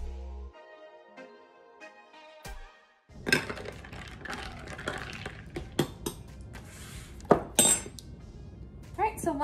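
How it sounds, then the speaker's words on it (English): A spoon stirs a drink mixture in a glass, giving a run of clinks and scrapes that come in bursts, close and fairly loud, after a quieter opening. "So I just go ahead and just stir everything, kind of break it down and just mix it"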